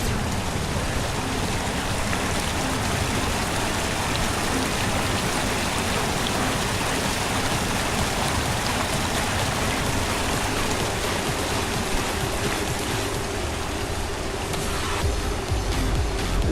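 A waterfall pours down inside small caves in the Zwift cycling video game, a dense, steady rushing hiss of falling water that continues loud and unbroken throughout.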